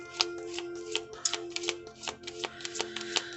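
Tarot cards being shuffled by hand, a steady run of crisp riffling slaps and soft flicks, close up and continuous with no talking.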